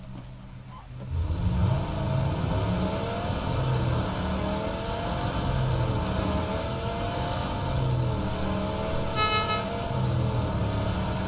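Car engine in PUBG gameplay, a sustained steady drone with rising revving that runs continuously throughout, with a brief higher-pitched toot or horn-like tone near the end.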